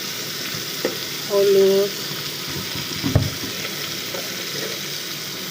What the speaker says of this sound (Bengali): তেল গরম হলে মাছগুলো দিয়ে দিলাম।